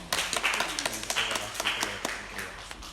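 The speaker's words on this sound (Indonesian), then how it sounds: "Tepuk tangan." An audience at a student organisation talk claps in a burst of sharp, uneven hand claps from a small crowd, close and moderately loud, with a faint voice underneath.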